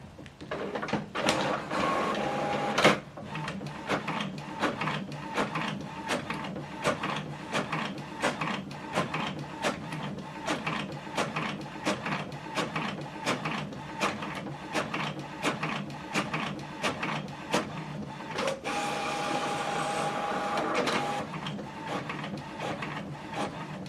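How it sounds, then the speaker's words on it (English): An HP OfficeJet Pro 8135e inkjet printer running steadily, with rapid rhythmic clacks of the print head sweeping back and forth and brief whirring paper-feed pauses. "Now this document is printing."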